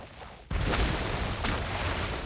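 PUBG video game gunfire: a sudden loud, dense burst of shots and impacts kicks in after half a second of quieter ambience and rolls on steadily to the end.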